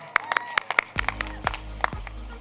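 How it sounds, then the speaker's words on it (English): Sparse, scattered hand claps from a small audience at a Whitman-Walker HIV prevention presentation in DC, a handful of sharp separate claps over about two seconds with a low rumble and some voice underneath. "Yeah, we're gonna clap for PrEP."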